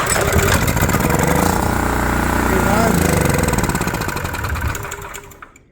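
A small generator engine runs after a rebuild, with carburetor and choke cleaned, in a loud, steady, close putter that holds evenly before slowly fading away.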